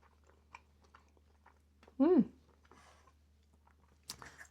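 A person tastes a homemade keto dish at the table, with a brief loud bite around two seconds followed by soft chewing, faint crunches later, and quiet surroundings.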